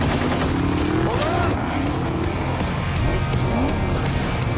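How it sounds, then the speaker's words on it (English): Gunfire and a speeding car in a film action scene, with soldiers firing wildly as the car races off, heard as a dense, continuous, loud wash of noise without pause. "Jack sped out in the car. The soldiers fired wildly."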